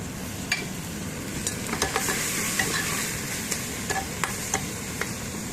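Tomatoes and ginger stirred and sizzling in a hot pan, with scattered scraping clicks of a utensil against the metal over a steady frying hiss.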